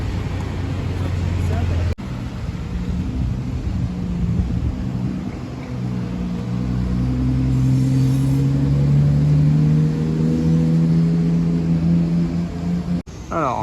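Sports cars in Monte Carlo, Monaco, including a Porsche 911 GT3 of the 992 generation and an olive green Lamborghini Urus, rumble and rev past nearby, the engine note rising and falling with a passing swell beneath ambient street noise.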